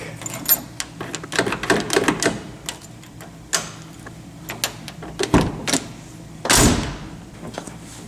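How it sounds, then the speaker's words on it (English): Metal clicks and clunks from a door lock being fitted into a 1963 Chrysler 300J door, scattered sharp knocks with a couple of heavier thumps near the end, close by with no talking. "Installing the door lock."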